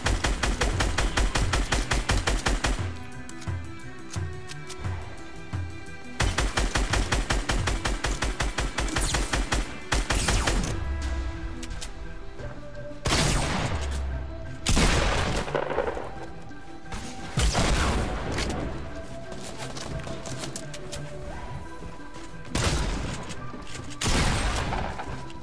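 Gunfire in the Fortnite video game comes in repeated rapid bursts and single cracks, mixed with impact sounds, with a voice talking at times over it.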